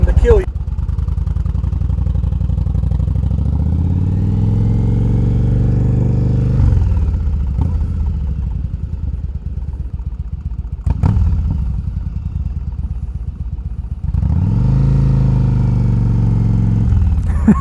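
Yamaha 1100 cruiser motorcycle engine heard while riding, a loud, close, steady rumble with throttle swells and brief dips between gears over seventeen seconds.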